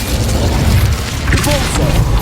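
Incendio fire spell cast in the Hogwarts Legacy video game: a steady low rumbling boom of flames with a brief bright burst near the middle, loud and continuous against other battle effects.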